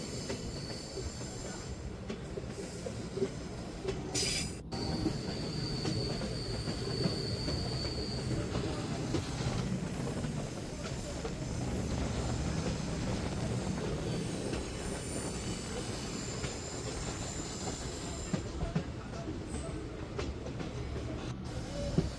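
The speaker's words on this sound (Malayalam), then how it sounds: "നമ്മുടെ ട്രെയിൻ ഒരു തുരങ്കത്തിലേക്ക് പ്രവേശിക്കുന്നുണ്ട്" Continuous rumble of a moving train entering a tunnel on the Kollam–Sengottai line, heard from inside, with a steady clatter, occasional high wheel squeals and brief sharp clicks.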